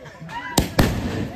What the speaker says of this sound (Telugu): వెళ్తున్నాయి పైకి 30 షాట్లు.